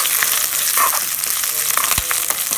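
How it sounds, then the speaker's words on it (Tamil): A hot tempering is poured into a pot of sambar, producing a loud, close burst of hissing sizzle that carries on steadily, with a single dull thump near the end and no talk. "தாளித்து கொட்டிக்கலாம்."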